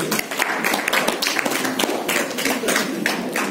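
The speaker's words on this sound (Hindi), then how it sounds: "इनके लिए तालियां होनी चाहिए" Audience applause fills a room at a breast cancer awareness session in Bandra, a dense run of overlapping claps that stays close and loud without pause.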